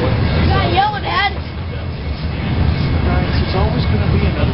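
A long freight train rolls past at a railfest in Fostoria, giving a loud, steady rumble and rattle of rail cars. Voices talk over the noise throughout.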